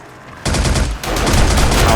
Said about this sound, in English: Sounds like those turrets are doing some work